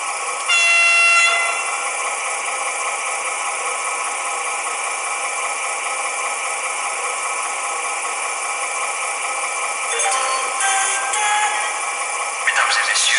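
A Jouef HO Colas DE18 model locomotive with DCC sound sounds its horn through a twin speaker setup, giving a sustained tonal blare that dips briefly at the start and returns with broken blasts near the end.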